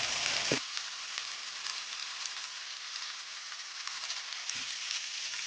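Shrimp sizzle steadily in a hot pan with oil, a continuous bright crackling hiss at close range, with a couple of soft clinks near the start and a faint thud just before the end.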